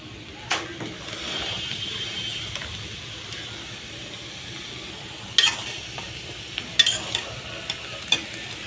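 Eggplant frying in a pan with turmeric and chili powder, a quiet, low hiss broken by a few sharp clinks and clatters of utensil against the pan.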